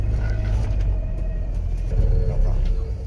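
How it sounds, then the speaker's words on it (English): A 2021 Ford Bronco makes a Trail Turn Assist pivot on hard-pack ground near Moab, with a steady low engine and tire rumble running loud and close throughout, under faint voices. "We want to do a Trail Turn Assist on the hard pack"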